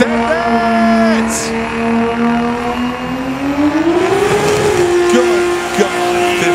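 A drift car at a Montreal competition spins its tires, a loud sustained engine roar with rising and falling revs and tire squeal close by, with a voice audible over it.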